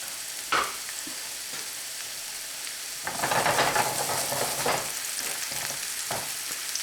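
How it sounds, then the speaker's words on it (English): Garlic and onions sizzle and fry in a hot pan, making a soft, steady crackle. A louder burst of frying hiss swells midway as the onions are added and stirred, and a few sharp clinks are heard. "Let the garlic cook a little bit. And add the onions."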